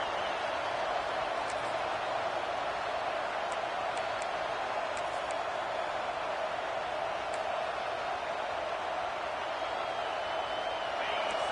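A home crowd at a football game cheers as the defense tries to get off the field on third down: a continuous, even roar from a large stadium crowd, fairly distant and without breaks.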